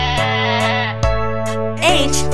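A goat bleats within a children's alphabet train song, the wavering animal cry rising over steady music with no talking during it.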